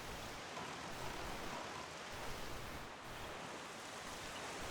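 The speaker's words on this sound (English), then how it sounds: "There's that rain." Rain in The Legend of Zelda: The Wind Waker, a steady hiss of falling rain, dense and unbroken, alone without talk.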